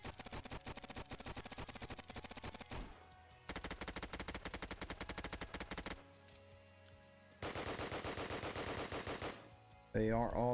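Automatic gunfire from several weapons in a Roblox survival game, rapid bursts of shots in long rhythmic strings separated by brief pauses, loud and close, ending with a different short electronic sound.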